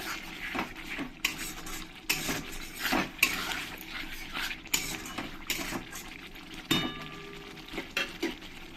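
Salt and turmeric being stirred into spices in a covered pan while cooking a silver carp fish curry: repeated scraping and clinking of a spoon against the pan, close and irregular, with soft sizzling underneath.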